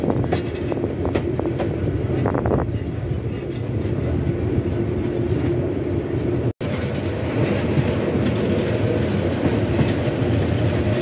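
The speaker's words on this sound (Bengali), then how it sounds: "বর্তমানে কিন্তু এই ট্রেনে পিটিনকা কোচের পরিবর্তে অনেকগুলি চায়না কোচ লাগানো হয়েছে" Tista Express passenger train from Dhaka to Dewanganj Bazar, fitted with Chinese-made coaches, running at speed, a loud continuous rumble with rhythmic clickety-clack of wheels over rail joints and a brief dropout partway through.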